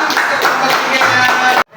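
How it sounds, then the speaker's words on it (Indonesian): A burst of clapping from a small group, brisk and fairly close, with voices mixed in before it cuts off abruptly near the end. "Oke, beri tepuk tangan."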